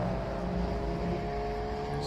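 An Opel Kadett classic car crossing the finish line at the Simola Hillclimb, a steady engine drone with a low rumble and tonal whine, heard at moderate distance.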